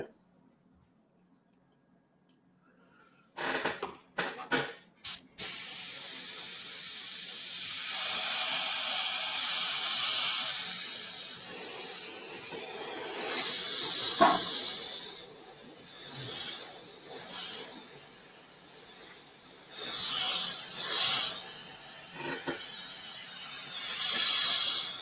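An airbrush spraying paint thinner during cleaning gives a close, steady hiss after a few short bursts, rising and falling through the stretch while a person talks intermittently.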